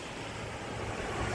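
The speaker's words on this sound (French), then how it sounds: "Il y a des vagues." Sea waves wash onto an Italian beach in a continuous broad rush of surf, mixed with some wind noise, steady and fairly faint, with no voices.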